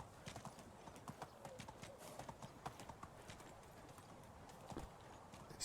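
A donkey ridden in Medieval Dynasty clip-clops in a steady, moderately quick hoof rhythm, fairly quiet and close, with speech running over the hoofbeats.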